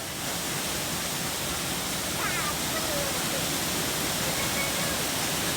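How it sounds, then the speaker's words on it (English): The loud waterfall at Fonferek's Glen near Green Bay, Wisconsin roars as a constant, dense rush of falling water heard up close, filling the whole clip. "Huge waterfall. So loud."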